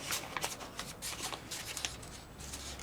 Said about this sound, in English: using a bit of paper, I'm going to press that down into the center of the cowl ring there and just work my way round